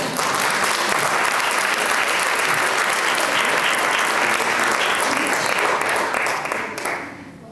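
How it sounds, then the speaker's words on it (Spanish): A large audience applauds loudly and steadily at a book presentation, dense continuous clapping that fades out near the end. "Un aplauso, por favor."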